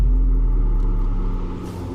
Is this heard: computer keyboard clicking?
no